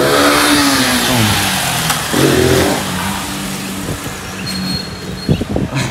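Motorcycle engine revving loudly up close during wheelie practice, a strong sustained rev that climbs and eases, surges again, then settles with a few sharp bursts at the end.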